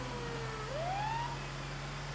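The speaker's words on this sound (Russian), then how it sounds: "Включаем сирену." A police car siren in the game GTA RP sweeps upward in one clear wail over a steady low engine hum, close and fairly loud.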